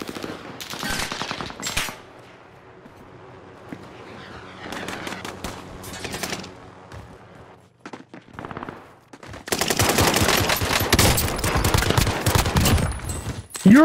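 Shotgun gunfire in the video game Warzone: bursts of loud gunshots, some rapid clusters, with quieter gaps in between and a dense, sustained barrage of shots near the end.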